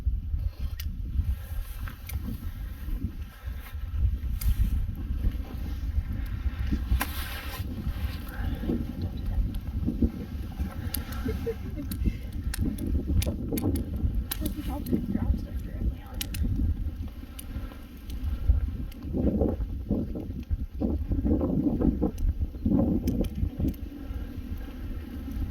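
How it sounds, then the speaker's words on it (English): Wind blowing across an Appalachian Trail campsite in the Roan Highlands beside a campfire, a steady rushing buffet with gusty low rumbles against the microphone and occasional small knocks and crackles. "Wind is blowing the embers away from me"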